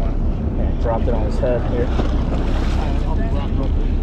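Wind buffets a fishing boat out on Delaware waters during flounder fishing, a steady broadband rush with boat and water noise throughout, while people talk over it.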